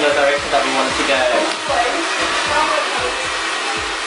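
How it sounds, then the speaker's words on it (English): A hair dryer blows steadily at close range, a continuous rushing whoosh with faint low thumps underneath. "Now we're just blow drying his hair"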